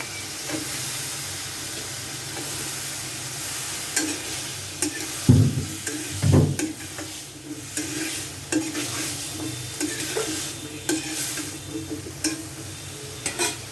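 Potatoes fry in a pan for a Bengali vegetable dish, a constant loud sizzle broken by a couple of heavy scraping knocks as they are stirred around, with no voices.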